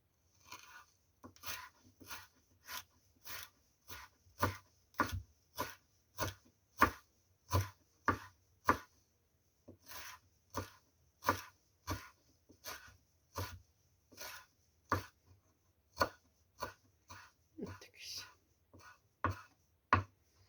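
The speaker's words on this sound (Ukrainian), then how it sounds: "Тепер кришимо кріп." A knife chops fresh dill on a cutting board for a simple fresh salad. Dozens of crisp, evenly spaced thuds run steadily for about twenty seconds, close up, with only brief gaps.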